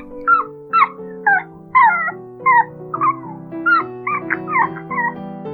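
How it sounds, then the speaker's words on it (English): A young puppy whimpers in a series of about a dozen short, high, wavering whines and yelps, each a separate cry spaced fairly evenly, close and clear with no other sound around them. "He heard Puppy's sound."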